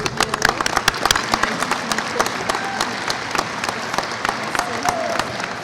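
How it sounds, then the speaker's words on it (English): A graduation audience at Martin High School claps for students with perfect attendance, a dense run of distinct hand claps mixed with crowd murmur that carries on evenly for several seconds. "We applaud these students and their parents for their perseverance"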